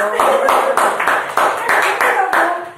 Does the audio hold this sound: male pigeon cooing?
no